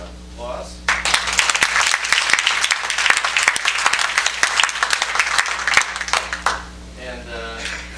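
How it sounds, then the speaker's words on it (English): Forum audience bursts into applause for Tom after a brief voice, dense clapping lasting several seconds before tapering off as a speaker resumes, over a low steady hum. "we should give him a round of applause"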